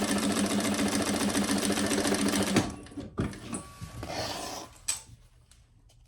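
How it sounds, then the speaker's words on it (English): A sewing machine stitching across the top and bottom of a diaper backpack: a steady, rapid mechanical whir runs for a few seconds, then stops, followed by scattered handling clicks and rustles of fabric. "So I'm stitching across the top and the bottom."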